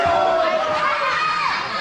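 Wrestling-match crowd shouting and cheering in a loud, dense roar that fills the whole brief moment, with no distinct single voice standing out.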